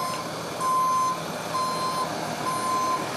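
Garbage truck reversing on a narrow street with no room to turn, its reversing alarm giving steady, evenly spaced single-tone beeps over a low engine rumble, with no voices.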